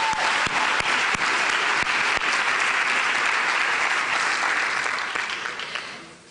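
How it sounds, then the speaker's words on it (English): An audience at a public lecture applauds a choir, with loud, dense, sustained clapping that carries on steadily and then fades away toward the end. "Give them another round of applause."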